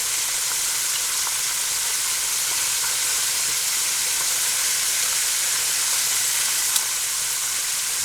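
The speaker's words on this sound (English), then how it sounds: "They're turned over and we're just going to leave the lid off and let them cook." Chicken pieces fry in an uncovered pan, a dense, steady sizzle and hiss that holds at an even level throughout with no voices over it.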